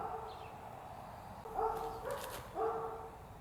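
A puppy shut in a crate gives a few short, strained barks and whining yelps, moderately close, with quiet gaps in between.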